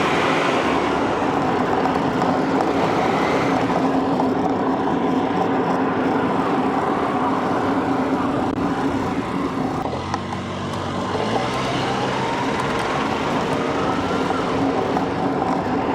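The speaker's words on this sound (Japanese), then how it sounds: "風切り音はだいぶカットできているようですが、 振動音は変わらず" A road bike ride recorded through the built-in mic of an XTU S3 action camera fitted with a sponge cover: continuous loud rumbling vibration and road noise fill the whole stretch with a low drone, and there are no voices.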